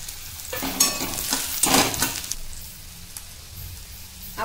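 Dry coconut and onion frying in a pan for a spicy Kolhapuri kat vada gravy, a soft sizzle with scraping stirs that swell into a louder burst midway, then settle into a low, steady crackle with no talk.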